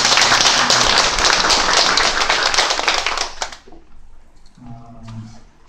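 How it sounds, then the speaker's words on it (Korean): A church congregation applauds in a loud, dense burst of clapping that fades out abruptly after a few seconds, followed by quieter room sounds and a low voice. "두 사람 격려하는 사람한테 박수 한번 해주십시오"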